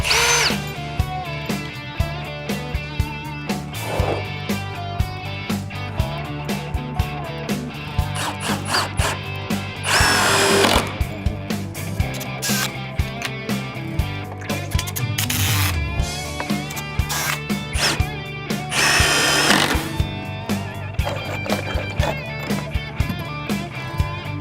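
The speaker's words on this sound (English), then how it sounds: "screw them together at the corners" A power drill drives screws into the corners of a wooden cornhole box frame, running in repeated bursts of whirring with short pauses between them, loud and close, with no talking.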